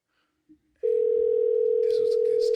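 A telephone dial tone switches on after a brief click and holds as a steady, loud continuous hum, with faint voices and rustling behind it.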